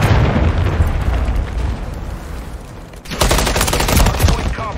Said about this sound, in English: Hostile launched a cruise missile